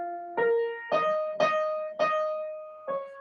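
Five piano notes spell out the name Miller as a musical cipher, each struck separately with a short gap before the last, ringing clearly and alone in a quiet room.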